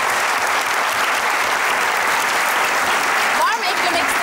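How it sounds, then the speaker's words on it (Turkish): Loud, sustained applause from a studio audience at a children's TV show, dense and continuous throughout with a brief voice cutting through near the end. "Alkış, son bir alkış."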